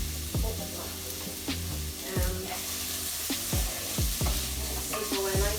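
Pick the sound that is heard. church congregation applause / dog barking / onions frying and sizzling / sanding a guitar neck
onions frying and sizzling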